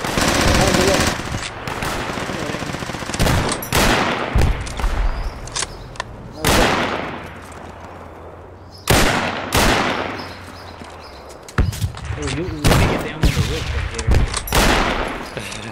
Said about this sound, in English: Somebody's shooting at us.